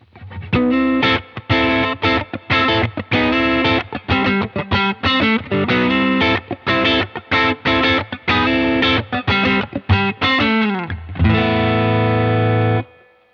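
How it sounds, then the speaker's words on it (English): Distorted electric guitar through a UAFX Dream '65 Reverb amp modelling pedal and pedalboard plays a rhythmic riff of chopped chords, loud and close, ending on a long sustained ringing chord. "This pedal board sounds going into my Tone Master"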